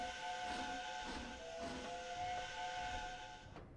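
An A4 Mallard steam locomotive whistle in the Trainz Simulator 3 game, one long steady shrill tone with airy steam hiss, sounding for nearly four seconds and trailing off at the end.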